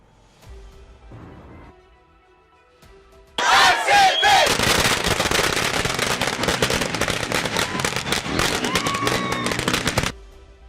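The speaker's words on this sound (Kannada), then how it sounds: "ಲಾರಿ ಏರಿದ್ರು, ಪಟಾಕಿ ಮೈ ಮೇಲೆ ಹಾಕೊಂಡು ಮೊಂಡಾಟ" Firecrackers burst in a long, dense rapid crackling volley during street celebrations by RCB fans after an IPL T20 title win, loud and close, with crowd shouts mixed in after a quieter start.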